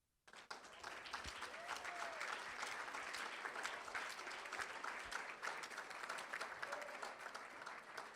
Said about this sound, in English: Let's give them one more big round of applause.